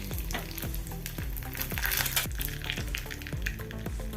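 Mustard seeds and curry leaves sizzle and fry in hot coconut oil for a radish stir-fry tempering, a steady close crackle broken by repeated sharp pops and spits, with no talking.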